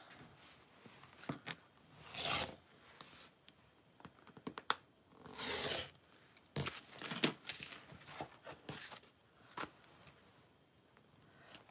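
Fabric pieces for a Divina Tote bag, including a zipper pocket side, being cut out, with repeated crisp snipping and rustling strokes in irregular bursts, close and fairly quiet.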